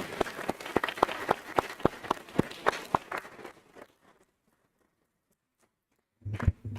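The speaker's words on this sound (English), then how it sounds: "So let's give our family and friends a round of applause" Graduation audience at a Class of 2023 commencement ceremony giving a short burst of applause, sharp claps near and loud for about three seconds, then fading quickly into near silence before a brief thump at the end.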